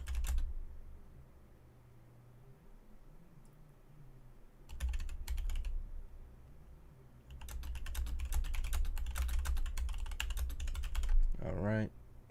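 Typing on a computer keyboard, with bursts of rapid, close key clatter separated by quieter pauses, ending with a short vocal sound.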